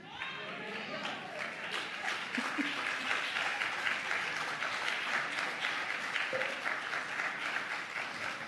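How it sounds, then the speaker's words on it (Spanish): Congregation applauding during a Sunday Epiphany sermon by the pastor, a steady wash of clapping hands with a few voices calling out and murmuring underneath, holding at even volume throughout. "No me aplauda a mí, que ese aplauso se convierta en acciones contundentes"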